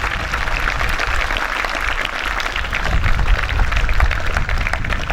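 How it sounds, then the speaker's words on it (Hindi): Sustained loud applause from a school sports day audience, a dense steady wash of many hands clapping that swells slightly toward the end, with no voices on top. "इसे जोर से ताली मारिए अपने लिए, सबों के लिए।"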